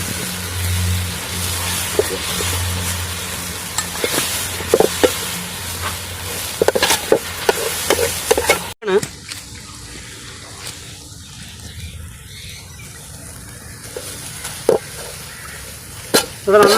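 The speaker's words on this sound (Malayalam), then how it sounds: "ഇത് നന്നായിട്ട് ഇളക്കി കൊടുക്കുക." Coriander powder is stirred as it fries in a pan for egg roast curry. A spoon scrapes repeatedly over a close sizzle, and the frying then drops to a quieter hiss broken by occasional clinks.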